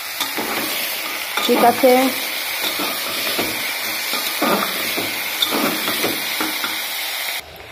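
Chopped bottle gourd and potato with chilli frying in oil, a steady sizzle with scraping stirring strokes, close and fairly loud, while a voice speaks briefly over it.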